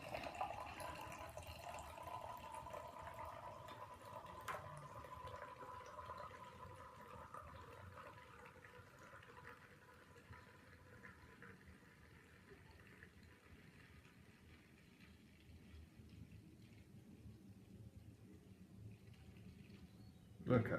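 Homebrewed Black Sheep Ale is drawn from a mini keg into a pint glass, a faint, steady liquid pour that fills the glass for about twenty seconds and tapers off near the end, with a voice present.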